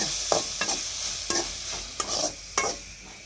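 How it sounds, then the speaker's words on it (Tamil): Ingredients sauté in a hot pan with a continuous hiss of frying, and about five distinct scraping strokes of a spatula stirring through them at irregular intervals. There is no talking. "போட்டு நல்லா வதக்கி விட்டுப்போம்"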